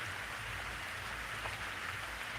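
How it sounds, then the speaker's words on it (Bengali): Steady rain falls on a pond during a summer-ending shower, a dense continuous hiss of drops hitting water, evenly loud throughout with no voices. "দেখো ভালোই বোঝা যাচ্ছে বৃষ্টি পড়ছে"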